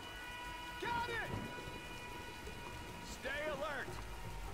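Steady rain and storm wash in the video game Tomb Raider Definitive Edition, a constant soft downpour under two short spoken lines from game characters.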